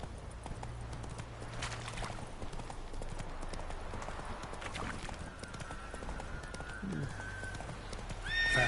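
The horse Roach gallops in a video game, a rhythmic clip-clop of hooves with a whinny, fairly quiet and close, over soft game ambience.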